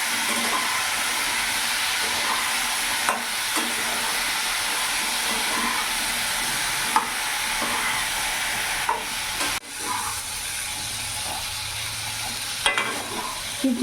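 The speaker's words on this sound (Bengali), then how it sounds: "এবার ভালো করে নাড়াচাড়া করে নেব।" Drumstick curry with ground spice paste fries steadily in a pan with a close, continuous sizzle and hiss. Occasional spatula scrapes and knocks cut through the sound, and no one talks.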